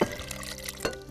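Water pours into a pot of meat cooking for a Turkish-style lamb and eggplant tajine, a short close splash and trickle with a brief clatter.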